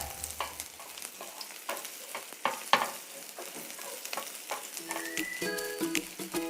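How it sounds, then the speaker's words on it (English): Onion and garlic frying in a pan, quiet sizzling broken by frequent spatula scrapes and taps, fairly close, with a few faint tonal clinks near the end. "by you cook him 1 to 2 minutes until onion and garlic and brown"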